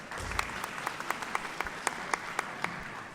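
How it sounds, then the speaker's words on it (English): Applause at a Deepavali address at Australian Parliament, a fairly faint, thin patter of hands with distinct sharp individual claps ringing out at regular intervals over a soft background wash. "Please give yourself a very big round of applause."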